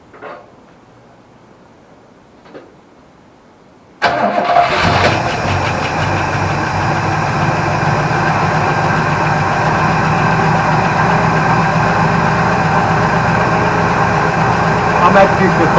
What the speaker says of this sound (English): I'm actually surprised after 7 or 8 years that this thing is idling.